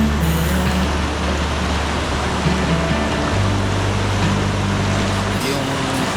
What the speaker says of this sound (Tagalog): sound ng waves. Parang music talaga siya sa pandinig ko, sa tenga ko.